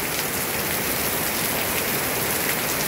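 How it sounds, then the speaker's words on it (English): Steady rain pouring down outdoors at home in the Philippines, a dense continuous hiss of drops drumming on surfaces, fairly close and even throughout with no voices. "Look at this rain."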